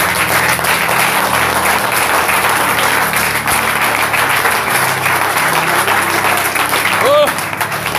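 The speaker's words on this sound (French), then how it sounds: "Applaudissons pour le Seigneur." A church congregation applauds for the Lord at a prophetic worship service in Cameroon, a dense, steady wash of loud clapping sustained throughout, with a brief vocal cry near the end.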